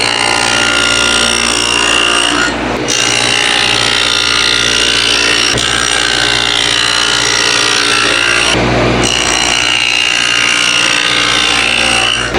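A table saw with a stacked dado blade cuts dados across wood for a rolling tool cart, a loud, steady broadband whine held throughout, with two brief dips as the cut changes.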